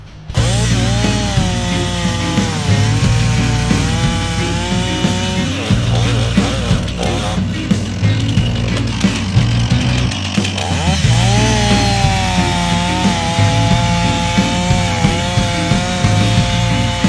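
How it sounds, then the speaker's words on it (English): A STIHL chainsaw bores into a tree trunk during felling, a loud, close engine whine that holds steady then dips and rises in pitch as the bar loads and frees up in the wood. "bore into the tree, cut all the interior out, leaving the back called a strap on there"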